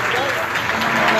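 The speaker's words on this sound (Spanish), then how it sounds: "Fuerte el aplauso para Laura Jacobacci también." Crowd applause at a political campaign launch for a city council candidate in Posadas, a brief continuous wash of clapping with a voice speaking over it.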